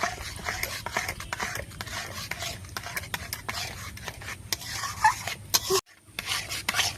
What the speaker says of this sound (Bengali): এবারে সব উপকরণগুলো এই খুন্তি দিয়ে ভালো করে মাখিয়ে নেব।